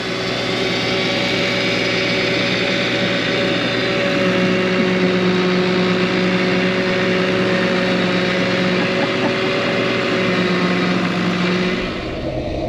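A steady, loud tractor engine drones close by in an orchard for the whole stretch, its low hum holding an even pitch before easing off slightly at the end. No voices.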